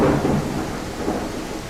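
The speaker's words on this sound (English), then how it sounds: "It's too early for a storm" Thunder rumbles loudly during a storm in the video game I Am Jesus Christ, a heavy low roll that fades into steady rain-like noise with no voices.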